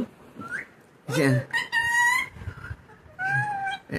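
A green parrot in a home in Puttalam gives several bright, clear whistles in short bursts, close by, with people talking between them.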